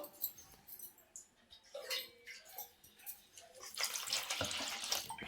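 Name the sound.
water poured into batter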